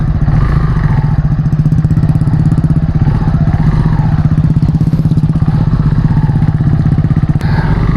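A touring motorcycle rides along a road toward a beach in Sukabumi, its engine a loud, continuous pulsing drone heard up close with steady rhythmic throb and no talk.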